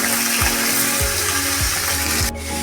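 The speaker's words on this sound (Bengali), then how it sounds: "বাকি মাছগুলো এবার ভেজে নেব" Tilapia fish frying in hot oil, giving a loud, dense, continuous sizzle that drops off abruptly near the end.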